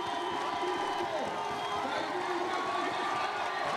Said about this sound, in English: You can hear the ground shaking from the crowd actually right here in the commentary box.